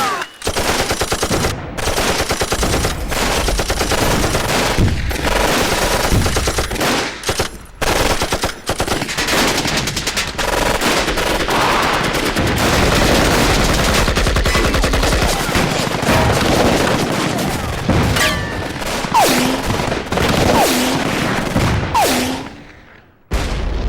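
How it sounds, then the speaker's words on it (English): Machine gun fire in World War II combat, long rapid bursts of loud crackling shots with short pauses between them, harsh and close on an old film soundtrack, no voices. "A machine gunner gives cover to the infantrymen of the 79th Division"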